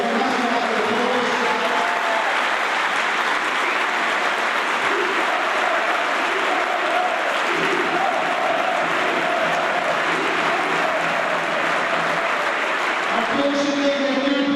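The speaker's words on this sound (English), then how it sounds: "So give them a massive round of applause." Loud, sustained applause from a large audience cheering a football team, a dense wash of clapping lasting throughout with voices talking over it in places.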